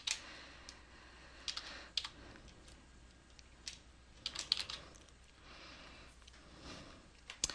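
Typing on a computer keyboard during software setup: irregular quiet key clicks and taps in short bursts, close and faint, with no voices.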